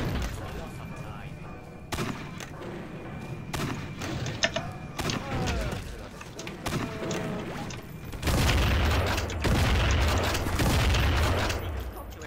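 Rocket launcher fire in the video game Bear Party Adventure: several heavy booming shots and thuds at irregular intervals, followed by a louder sustained rumble of explosions, over background game noise.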